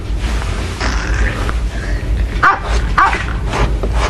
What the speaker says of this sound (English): It sounded like a dog barking.